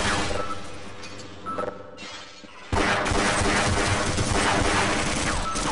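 Gunfire aimed at the player in Half-Life, opening with scattered shots that fade into a brief lull. Then a sudden loud burst of sustained rapid firing and impacts comes in and continues to the end.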